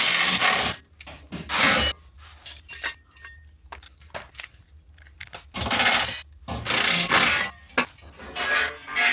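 Metal parts clink and scrape in sharp bursts as a Jeep transmission crossmember and transfer case skid plate are removed, close and fairly loud, with quiet gaps between the clanks.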